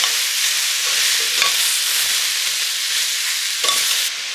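Carrots and zucchini sautéing in a pan, a close, continuous sizzling hiss with faint scrapes of stirring, no voices over it.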